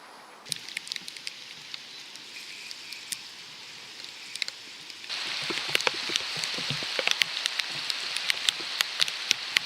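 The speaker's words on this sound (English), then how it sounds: "Raining." Steady rain pattering on a surface while fishing, with scattered sharper drops and taps, growing denser and louder partway through.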